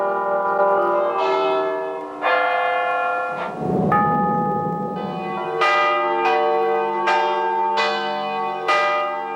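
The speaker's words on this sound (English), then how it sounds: "the sound of church bells rang around the country, appealing for peace" Church bells ring loudly with a rich, resonant tone, strikes overlapping and sustaining, repeating steadily throughout.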